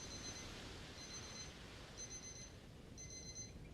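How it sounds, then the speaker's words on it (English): Faint electronic break-timer alarm beeping in short repeated bursts about once a second, high-pitched and thin over a steady hiss, with no talking. "what is that beeping noise?"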